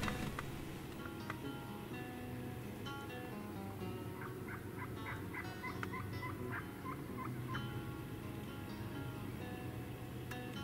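Wild turkeys gobble outdoors at a distance in the morning, caught on a Panasonic HC-VX981 camcorder while scouting. The rapid rattling calls come in a few bursts over steady background hiss and faint birdsong.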